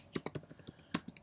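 Quick, light keystrokes on a computer keyboard, about a dozen close clicks in an uneven burst, with no voices.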